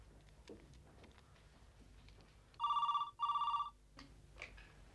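A telephone rings twice in an office setting, two bright electronic trills with a short gap between them, clear and alone over quiet room tone.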